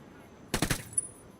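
Video game gunfire: a quick burst of several rapid shots in succession, loud against a quiet background, followed by a short ringing tone.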